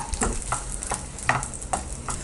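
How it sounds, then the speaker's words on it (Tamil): Garlic sautéing lightly in oil in a pan, with a steady soft sizzle and periodic scraping stir strokes about every half second, close and moderately loud, no voices. "பூண்டு மட்டும் கொஞ்சம் லைட்டாக தனியாக வதக்கிக்கலாம்."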